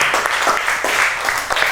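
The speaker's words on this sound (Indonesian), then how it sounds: "Berikan tepuk tangan bagi semua kelompok yang tadi sudah presentasi" Students in a classroom applaud the groups who have just presented, a short, loud burst of mixed hand claps with a faint voice underneath.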